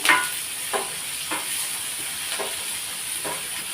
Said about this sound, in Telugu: ఆనియన్స్ మాత్రం వేస్తున్నాను నేను ఇప్పుడు ఇలా లైట్గా కాసేపు ఫ్రై చేసుకున్నాం